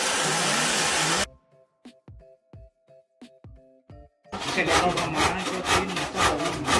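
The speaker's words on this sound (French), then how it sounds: "l'artisan débite la longueur utile de notre bois dans la planche. Il utilise une scie aiguine à l'envers" A handsaw (scie aiguine) cuts a length of wooden plank in a workshop in Madagascar, giving loud, close, rough rasping strokes at the start and end, with a quieter stretch of other sounds between them.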